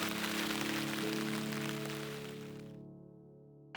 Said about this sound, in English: I thought the rain was dying out